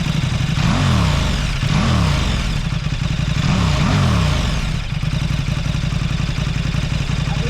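A warm 2014 KTM RC8R V-twin superbike engine with no exhaust fitted revs repeatedly, pitch climbing and falling in several bursts over a steady loud rumble, close by with no one talking.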